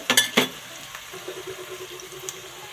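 Onions frying lightly in a hot pan for restaurant-style pulao: a couple of sharp clatters as they go in, then a soft, steady sizzle close by.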